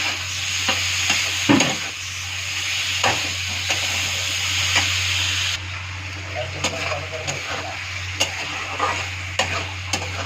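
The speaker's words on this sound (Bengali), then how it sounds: "সুন্দর করে মিক্স করে একসাথে ভাজা ভাজা করবো।" A spatula scrapes and stirs a sizzling ginger-cumin spice paste in a frying pan with repeated knocks against the pan; a faint background voice is present.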